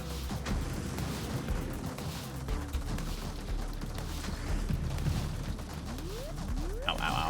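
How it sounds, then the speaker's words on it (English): Video game gunfire crackles in rapid bursts and volleys, with booming impacts and scattered sharp shots layered over a busy battle din. "the gunfire does still seem a little on the loud side"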